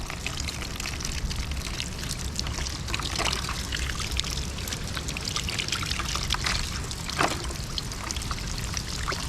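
Avocado seeds are washed under running water, which pours and trickles steadily and close by, with small splashes and shifts in the flow as the seeds are rubbed and turned.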